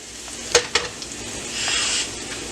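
Garlic sizzling in a pan while cooking for a bacon and pepperoni pizza, a steady close frying hiss with a couple of sharp clinks from a utensil early on and a brief swell in the sizzle.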